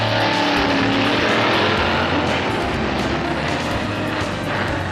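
A Corvette and a Dodge station wagon drag racing at the 1960s NHRA U.S. Nationals, engines howling at full throttle in one loud sustained roar that shifts pitch as the cars pull down the strip.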